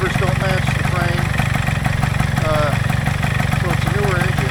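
Kawasaki F7 motorcycle with a likely rebuilt engine idling steadily after starting, a close, loud, even putter with rapid regular pulses, while someone talks over it.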